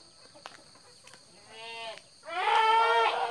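Garut goats on an Indonesian farm bleat twice, first a shorter wavering call and then a louder, longer one, close by against a faint background with a few soft knocks.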